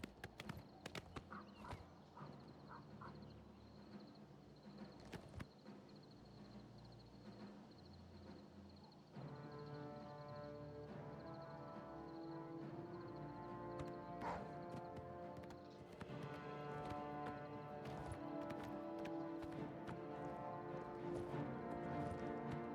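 Rhythmic hoof clip-clops of a ridden horse in the fantasy game Oblivion, a steady trotting beat that grows louder and busier midway, backed by a soft ambient hum.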